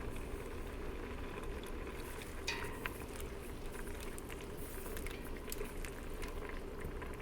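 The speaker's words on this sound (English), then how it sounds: "Cooking your pasta in a small amount of water will concentrate the starches, which will help to emulsify the sauce later." Pasta simmers in a shallow pot of boiling water for macaroni and cheese, giving a steady, close bubbling and rolling hiss with occasional soft pops, constant throughout with no talk.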